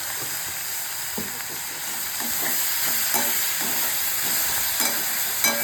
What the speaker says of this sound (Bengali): এবার এটা একটু ভাজা হবে।